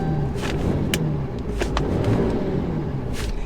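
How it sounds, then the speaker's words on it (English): A 2018 RAM 2500 Cummins diesel pickup towing about 10,000 pounds, heard from inside as a continuous low rumble with a steady drone, plus a few brief clicks and thumps over it. "I love that diesel sound."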